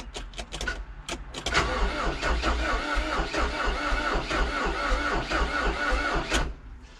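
A Deutz BF4M2012 diesel engine in a Volvo BL70 cranks repeatedly in a rapid, uneven chug for several seconds without catching, then cuts off; close and fairly loud.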